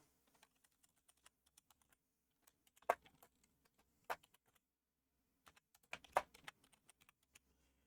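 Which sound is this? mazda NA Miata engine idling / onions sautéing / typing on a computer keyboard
typing on a computer keyboard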